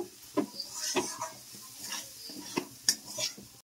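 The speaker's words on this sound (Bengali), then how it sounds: "এইভাবে আমি ভালো করে সব মিশিয়ে কষিয়ে নেব।" Soybean chunks and chana dal are stirred and sautéed in spices in a pan, giving soft sizzling under repeated scraping clinks of a utensil against the pan, close and moderately quiet.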